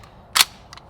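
A single sharp suppressed gunshot crack from a CGS suppressor on a Zenith ZF5 firing 158 grain Fiocchi rounds, close and loud, followed by a faint metallic click, with no talk.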